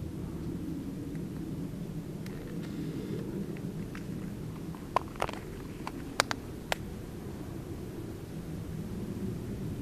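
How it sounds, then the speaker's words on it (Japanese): A distant airplane drones as a steady low rumble overhead on a mountain pass road during a winter cycling trip, with a few sharp clicks near the end. "あ、そこも飛行機飛んでる。"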